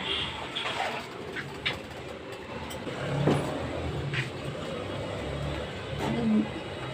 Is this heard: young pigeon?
yes